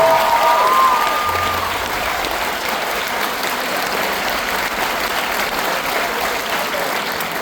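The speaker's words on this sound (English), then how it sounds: "can we give the band directors just one more round of applause," An audience at a high school honor band performance applauds steadily and loudly, a dense wash of clapping that continues throughout, with a brief voice at the start.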